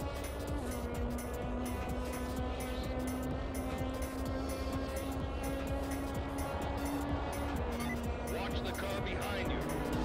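A racing car engine drones behind the player in R: Racing Evolution during a Japan Touring Car Championship race near the 130R corner, a steady harmonic whine under continuous commentary from the player.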